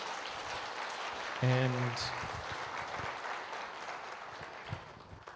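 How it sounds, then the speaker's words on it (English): Conference audience at a GNU Radio event applauds the keynote speakers, a steady wash of clapping throughout, with someone speaking briefly over it near the start. "A round of applause"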